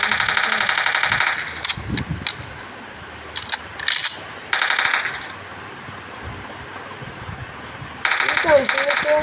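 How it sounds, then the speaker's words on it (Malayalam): Bursts of automatic gunfire from a zombie warfare video game, loud and rapid, in several separate volleys with quieter gaps of background game noise between them. "വെറുതെ അങ്ങനെ വെടിച്ച് കൊടുക്കുന്നുണ്ട്"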